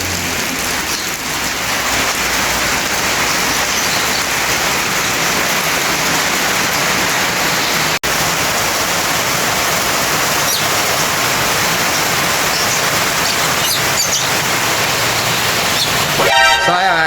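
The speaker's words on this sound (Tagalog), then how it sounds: "talagang umuulan pa rin" Steady, heavy rain pours without a break, a loud dense hiss that fills the whole stretch evenly from start to finish.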